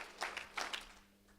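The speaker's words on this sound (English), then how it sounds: "I want 4 claps for that." A small crowd at a Carson City road tour event claps a handful of times, a few distinct claps then fading into quiet room noise.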